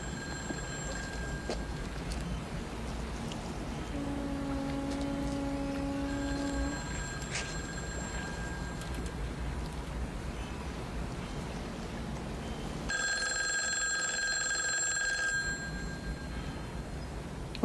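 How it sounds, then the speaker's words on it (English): A telephone bell rings in the 1971 film Dirty Harry: bright, metallic ringing tones come in separate bursts over a low background hum, with the loudest and fullest ring near the end. "What am I supposed to do with a ringing phone?"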